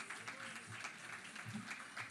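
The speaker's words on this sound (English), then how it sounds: "Let's appreciate them with a big clap." Faint clapping from an audience at a community cultural program, a brief soft patter of hands heard from a distance.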